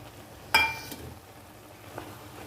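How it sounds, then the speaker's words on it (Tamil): Sliced chapati with cooked egg is sautéed in a pan, with a quiet sizzle broken by a sharp metallic clatter of the spatula early on and a softer scrape later. "இப்போ இதில் நல்லா வதக்கிக்கலாம்."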